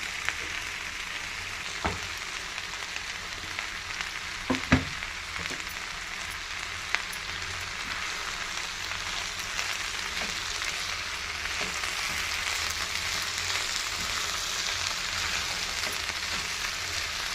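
Beans fry in a pan with masala stirred in, giving a steady soft sizzle and crackle throughout, with a few sharper pops and clinks near the start.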